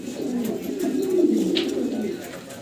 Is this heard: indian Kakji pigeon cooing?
yes